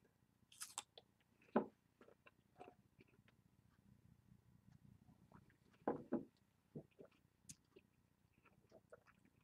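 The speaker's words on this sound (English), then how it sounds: "chew, taste together, try not to speak." Someone chews a small piece of pear between whisky sips, with a few crisp, moist bites and crunches that come and go in bursts. The sounds are close and quiet, with soft room noise in between and no speech.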